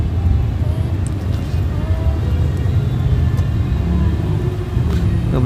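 A car drives along a road near Victory Monument in Bangkok, with a continuous deep rumble of engine and tyres heard steadily from inside the vehicle.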